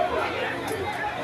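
Crowd chatter at a bread queue on Trio Street, Lagos Island, where people line up for 100 naira bread, forming a steady, dense babble of many voices nearby.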